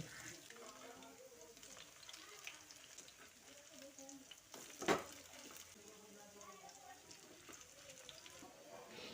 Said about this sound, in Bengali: আমি পকোড়াগুলোকে সেলো ফ্রাই করছি তবে আপনারা চাইলে ডিপ ফ্রাইও করে নিতে পারেন